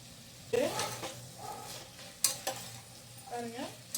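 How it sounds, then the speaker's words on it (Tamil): Spice powder is stir-fried in a pan for bisibela bath, a low sizzle under several sharp spatula scrapes and clinks against the pan, with faint voice sounds in the background. "இந்த பச்சை வாசனை போகிற வரைக்கும் ஃப்ரை ஆகட்டும்."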